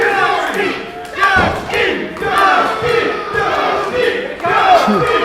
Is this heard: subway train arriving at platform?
no